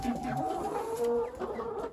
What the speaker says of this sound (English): Oh, they're jumping. You silly chickens.